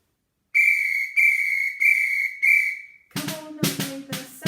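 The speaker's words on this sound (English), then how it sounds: "You're going to play your samba instruments on the word yeah." Samba percussion: four sharp whistle blasts in a steady rhythm give way to a few loud shaken and tapped hits, played close and without any voices.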